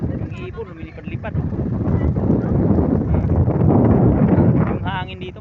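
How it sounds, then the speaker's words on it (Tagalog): Steady wind on a mountain top roars and buffets the microphone, loud and continuous, with rain in the wind and voices talking briefly at the start and end. "Yung hangin dito may kasamang ulan."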